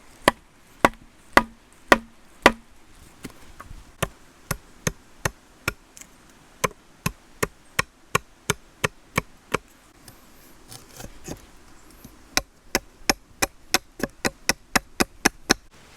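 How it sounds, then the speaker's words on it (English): Sharp wooden knocks come in a steady series as a knife is tapped to baton a slot into wood for a bushcraft crossbow, roughly two strikes per second, close and crisp with quiet gaps between. "So I'm just going to batten a slot in there now"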